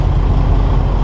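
Traffic-jam engine noise in Lyon, a steady loud low rumble of a car and nearby vehicles close by, with a car behind accelerating and no speech over it.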